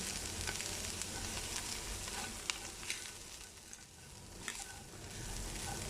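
Chicken with black pepper and tandoori masala sizzles steadily in a pan while being stirred, with a few light scrapes and taps, moderately quiet and without talk.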